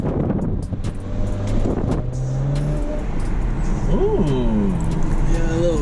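A BMW 335i with the N54 turbocharged engine pulls hard under boost, its engine note rising and climbing in pitch toward the end, heard from inside the car with wind noise and people talking.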